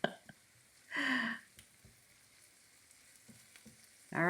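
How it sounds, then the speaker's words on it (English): Ground meat with Worcestershire sauce browns in a pan for slow cooker chili mac, giving short bursts of close sizzling and frying with quiet gaps and a few light taps between. "we're going to continue to brown this up"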